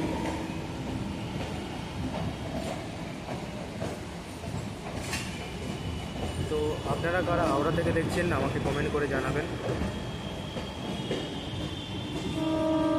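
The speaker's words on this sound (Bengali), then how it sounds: "তো হাওড়া ব্রিজের নিচ দিয়ে ট্রেনটা চলে যাচ্ছে।" A local train rolls past beneath Howrah Bridge in a busy outdoor setting, its steady rumble and clatter running throughout with squealing metallic tones midway, while someone talks over it.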